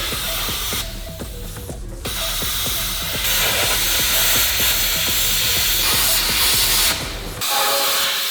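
A ratchet rapidly clicks as axle bolts on a 4x4 are loosened, a steady close run of sharp pawl ticks with brief pauses and hissy shop background, no talk.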